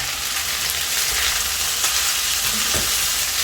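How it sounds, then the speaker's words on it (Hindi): Chopped onions frying in a pan to soften give a steady, close, bright sizzle throughout, with a brief scrape of stirring near the end. "तो पहले सिर्फ ऑनियन ऐड करेंगे हम और उसको थोड़ा सा सॉफ्ट होने देंगे ऑनियंस को"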